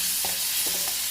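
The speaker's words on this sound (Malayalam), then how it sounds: "പൊട്ടിക്കഴിയുമ്പോൾ ഇഞ്ചി വെളുത്തുള്ളി പേസ്റ്റ് ചേർക്കാം" Ginger garlic paste frying in ghee with cinnamon, cloves, cardamom and cumin in a hot pan. A brief, close, steady hiss with a couple of soft stirring scrapes.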